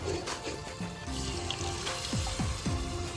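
Water pours and splashes into a pan of fried onion and spices for a fish curry, with a sizzling hiss and a few rising gurgles as the pan fills.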